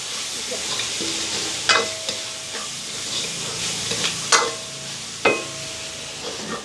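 Potatoes and green chillies stir-fried in a pan over gentle heat, a steady close sizzle broken by several sharp clanks and scrapes of the spatula.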